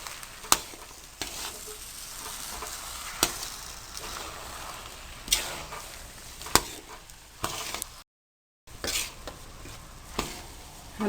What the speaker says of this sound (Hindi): अब इसको अच्छी तरह से मिक्स करके 5 मिनट के लिए भून लें